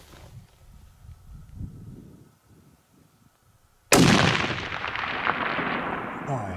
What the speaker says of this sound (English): I'm gonna shoot another one when he stops.